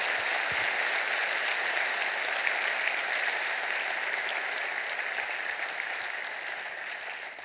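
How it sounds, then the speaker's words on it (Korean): A church congregation applauding during a Sunday service, a dense, even roar of many hands clapping that holds steady and slowly fades a little toward the end, heard at a slight distance in a reverberant hall. "여러분께 박수로 환영하시지요"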